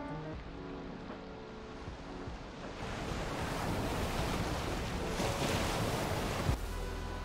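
Ocean waves in Valheim with increased wave height, a broad rushing surf roar that grows louder partway through, mixed with gusty wind noise and a sharp knock near the end.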